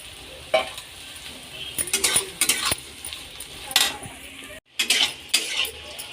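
Soybean chunks fry in a pan with onion and capsicum while a metal spoon stirs and scrapes, giving irregular clinks and scraping bursts over a low sizzle, close up.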